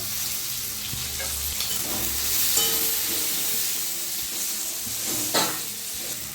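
Spice masala of cumin, turmeric, Kashmiri chili powder, chopped tomato and green chili fries in a pan with a little water, a continuous close sizzle with soft stirring scrapes, for a squash and prawn curry.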